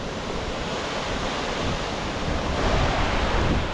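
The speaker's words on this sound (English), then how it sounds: "There's water crashing down in every direction." A Scottish waterfall sends water crashing down in every direction, a steady, dense roar that holds at even strength throughout, with no voices over it.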